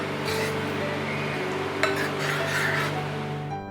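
Onion paratha batter with chilli flakes and coriander being mixed in a bowl, a steady close scraping and stirring with a faint utensil clink midway, no voices.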